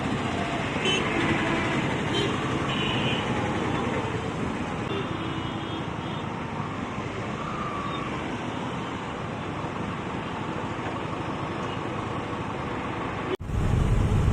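Roadside traffic in Annur, Tamil Nadu, on a hot day with engines idling and passing in a continuous steady rumble, faint scattered car horns toot now and then, and a sharp click or knock comes near the end.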